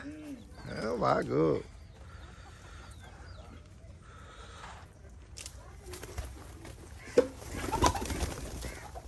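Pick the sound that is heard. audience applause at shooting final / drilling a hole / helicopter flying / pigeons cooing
pigeons cooing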